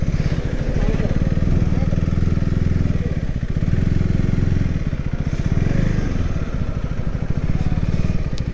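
A motorcycle engine idles and putters close by with a steady low rumble as the bike is being parked on a roadside stop during a road trip, with people talking over it.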